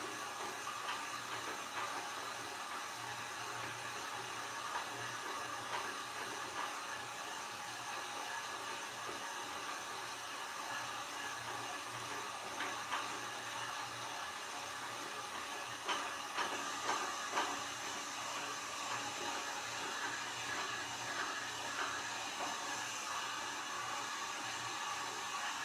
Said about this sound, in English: With the heat gun, if you are using it, make sure you move it.